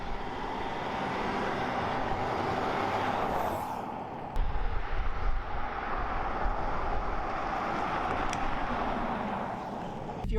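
Land Rover Defender Hard Top mild hybrid engine heard from inside the cabin while accelerating, a steady low rumbling drone with road noise, loud and continuous, swelling slightly midway.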